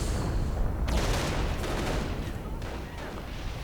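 Artillery and gunfire from a real-time strategy game battle, dense and continuous with rattling shots and heavier booms layered over a rumbling din, close and loud throughout.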